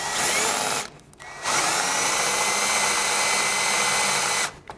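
A power drill bores a pilot hole for a Toyota Tundra roof rack, a loud, steady whine that drops out briefly near the start, then spins up again and runs continuously until it cuts off at the end.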